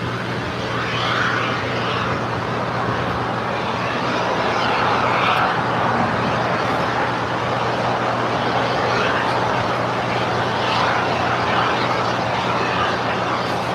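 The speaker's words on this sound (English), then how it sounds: "The Air Tahiti Nui Dreamliner now rolling down runway 24 left, departing to Papeete" An Air Tahiti Nui Dreamliner jet rolls down runway 24 left at LAX on its departure to Papeete, making a loud, steady roar of engine noise with a low hum throughout and no voices.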